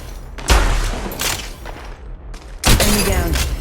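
Gunfire in the mobile battle-royale game Apex Legends Mobile, heard as loud, close bursts of shots in two clusters with sharp cracks and booms, with no talking.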